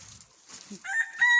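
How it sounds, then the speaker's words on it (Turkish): A white Abyssinian rooster crows loudly from close by, its harmonic call rising and holding near the end after a few softer rustles and clucks. "Şöyle bir tane Habeş horozu aldık."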